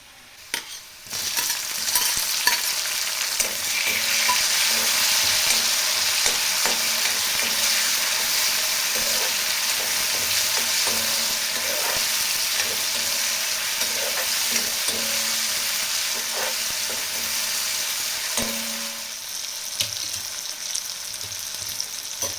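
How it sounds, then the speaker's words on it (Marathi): Chopped tomatoes fry in hot oil with browned onion in a home kitchen pan, giving a loud, steady sizzle throughout, broken by occasional stirring scrapes and knocks, with no talking. "आता आपण टोमॅटो टाकून घेऊ."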